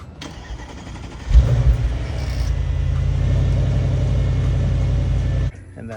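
Audi S6 with its stock exhaust before modification starts up with a sharp bark, then settles into a loud, steady low idle rumble for several seconds before cutting off.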